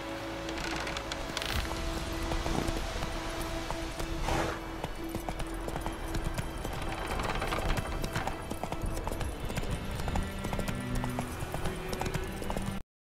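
Roach, a horse in The Witcher 3, clip-clops with steady, close hoofbeats over rustling ambience and soft music, with no speech.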